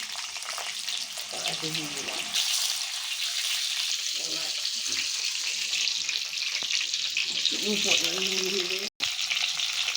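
Mango pieces frying in hot oil with a dried red chili tempering, a steady close sizzle broken by brief bursts of clattering as the pan is stirred, with one short dropout near the end.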